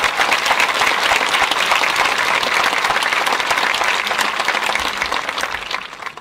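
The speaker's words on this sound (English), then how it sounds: "A big round of applause for all of them." Loud, sustained applause from a graduation ceremony audience honoring maintenance crews and audio-visual staff, a dense crowd of clapping hands that holds steady and tapers off at the close.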